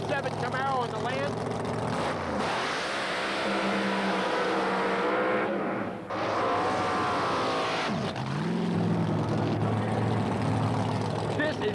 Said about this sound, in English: here's my favorite car, the quickest and fastest real 67 Camaro on the land